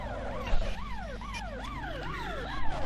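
A wailing police siren sweeps up and down in repeated rising-falling cycles over a steady engine-like rumble, loud and continuous with synthetic quality, in the video game Carmageddon.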